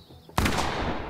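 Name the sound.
gunshot from a cannon-like gun in The Quarry, video game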